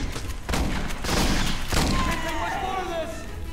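Shotguns fire in the video game Aliens: Colonial Marines, several heavy booming blasts in quick succession amid a din of combat noise, with a fading ringing tail.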